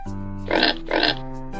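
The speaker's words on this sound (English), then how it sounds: "pig." A domestic pig makes two short, nasal oinks spaced a moment apart, heard fairly close over a steady tonal music bed.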